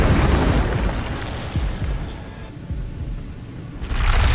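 A fiery spell bursts out in Hogwarts Legacy, a loud whooshing blast of flame with rumbling low crackle that fades briefly before a second roaring burst flares up.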